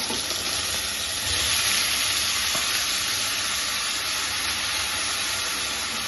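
Potatoes fry in coconut oil in a pan, giving a steady, loud, close sizzle and hiss that holds unbroken throughout with no one speaking.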